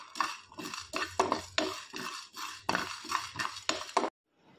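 Masala ingredients for fish curry fry in oil as a spoon scrapes and clinks against the pan in a steady rhythm of repeated strokes, close and fairly quiet, ending in sudden silence.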